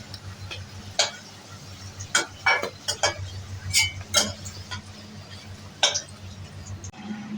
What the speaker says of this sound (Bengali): আলু ভাজা হয়ে গেছে, এখন তুলে নিচ্ছি।